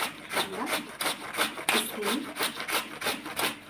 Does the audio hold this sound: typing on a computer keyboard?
no